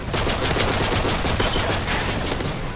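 USP .45 akimbo pistols firing in Call of Duty, a fast, continuous stream of close, loud alternating shots forming an unbroken rattle for the whole stretch.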